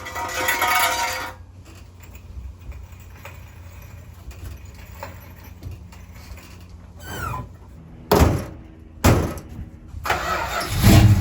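A 1972 Plymouth Road Runner V8 cranks and fires in bursts, a loud rev at the start, then a low uneven idle broken by several sharp throttle blips and restarts close by.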